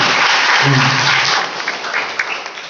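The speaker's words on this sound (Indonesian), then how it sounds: "Kasih tepuk tangan dulu dong buat Eni." Studio audience at an Indonesian TV talk show breaks into applause, a dense, loud burst of clapping that fades somewhat toward the end, with a brief voice underneath early on.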